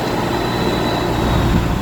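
Built 7.3 PowerStroke turbo diesel 4x4 truck engine pulling under load at quarter throttle, a loud steady low rumble with faint turbo whine, heard from nearby.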